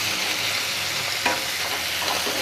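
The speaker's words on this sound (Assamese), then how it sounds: "এতিয়া মই ইয়াতে মেৰিনেট কৰি থোৱা মাংসখিনি ইয়াতে দি দিছোঁ আৰু এতিয়া ভালদৰে লৰাই দিছোঁ" Marinated pigeon meat fries and gets stirred in a pan for a papaya and black pepper pigeon curry, a continuous close sizzle with one sharper spoon scrape midway, no talking.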